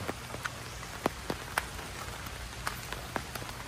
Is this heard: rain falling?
yes